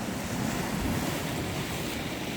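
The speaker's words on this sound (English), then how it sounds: "I think the video would be more relaxing with the sound of the waves." Ocean waves wash in a steady roaring surf with wind buffeting the microphone, loud and close with no voices.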